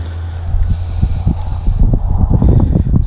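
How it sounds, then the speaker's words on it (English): Gusty wind roars and buffets the microphone beside a creek near sundown, where someone is wading and fishing. The noise is loud and constant, with rumbling low gusts and a few soft knocks and rustles. "It's gotten windy all of a sudden."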